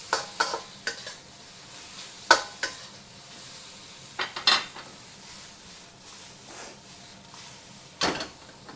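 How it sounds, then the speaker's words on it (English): Cumin lamb stir-fries in a pan, a soft sizzle running under sharp scrapes and clacks of a utensil against the metal, the strikes coming in irregular bursts, near and fairly loud, with no talking. "So we're gonna stir fry it for another minute or so"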